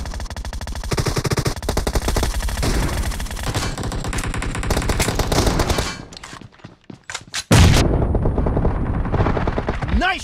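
Rapid automatic gunfire bursts from the BGMI (Battlegrounds Mobile India) video game, loud and dense, broken by a brief stutter of single shots and clicks before another heavy volley resumes, with game announcer voice lines mixed in.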